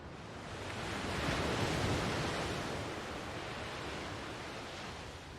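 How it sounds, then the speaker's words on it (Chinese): Sea waves washing onto the shore in a steady, full roar that swells slightly and then eases, with no voices. "听海浪的声音， 能让你的心静下来"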